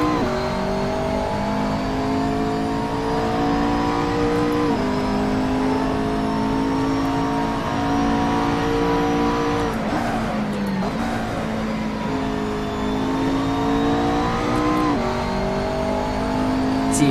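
Race cars in Assetto Corsa drone steadily with layered engine tones that shift as gears change, the pack of cars ahead sounding distant beneath the player's own engine, which stays loud and continuous.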